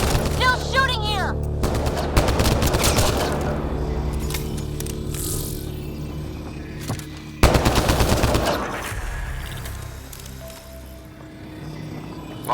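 Bursts of automatic gunfire in the sci-fi shooter Mass Effect Andromeda, loud rattling volleys in two main stretches with echoing booms between, while voices talk over the combat.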